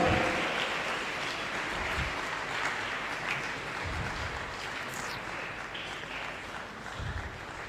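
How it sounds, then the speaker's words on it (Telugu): Sustained applause from a church audience at a novena service in Peddavutapally, a dense, even wash of many hands clapping at moderate distance that continues without a break throughout. "గట్టిగా చప్పట్లు కొట్టి అభినందిద్దాం."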